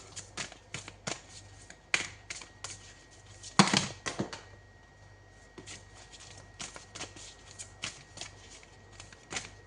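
Tarot cards are shuffled close by in quick riffling bursts and soft slaps, with one louder flurry partway through and scattered faint taps between.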